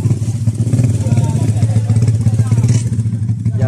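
A small motorcycle used as an ojek taxi for carrying fish runs with a close, steady, throbbing low drone. The engine stays at an even level for almost four seconds.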